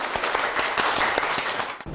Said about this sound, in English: Clap your hands. Clap your hands. Yeah, everyone clap.